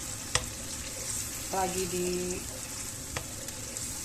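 Ground spice paste fries in a pan with a steady broadband sizzle throughout, broken by a couple of sharp utensil clicks; a brief tonal clatter sounds midway, and a voice speaks briefly.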